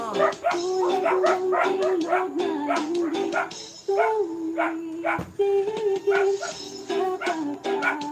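A group of dogs barks and yips continuously at close range in the Philippines, with whimpering and howling tones running through the chatter.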